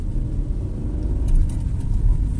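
A learner driver's car pulls away as the clutch is released and the engine is given gas, with a steady low engine rumble that swells slightly, heard from inside the cabin.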